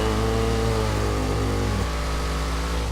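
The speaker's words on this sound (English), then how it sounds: "Listen to that baby engine." A car engine in a racing video game drones loud and steady with a dense buzzing tone, and its pitch drops partway through.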